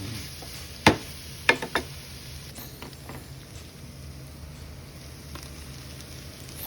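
Chicken and onions stir-fried with cumin powder in a pan, a low steady sizzle broken by a few sharp clanks of a spoon early on, then continuing quietly with faint scraping and no talk.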